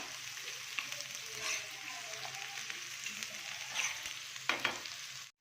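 Onions frying in a pan for a tawa prawn fry, a soft continuous sizzle with occasional stirring scrapes and clicks, fairly quiet and close, with no talking.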